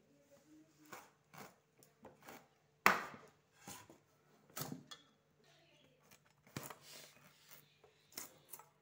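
Knife cutting a young, unpeeled bottle gourd on a board: faint, scattered taps and creaks with one sharper chop, quiet and close with gaps between cuts.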